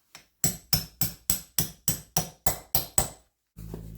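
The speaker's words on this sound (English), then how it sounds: "after a few more hits with a more substantial punch and a bit of WD-40, the quadrants come off" A hammer drives a punch against seized rear drum brake quadrants on a Classic Mini, about ten sharp metallic blows at a steady, even pace, loud and close, followed by a low hum.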